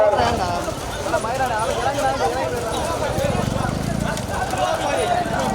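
Bulls run in a bull race at Vairivayal, Pudukkottai, with a steady patter of hoofbeats under loud, continuous shouting from the crowd.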